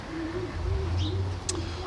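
Racing pigeons in a loft in England, a low soft cooing line running under the whole moment, with a couple of brief high chirps over steady background noise.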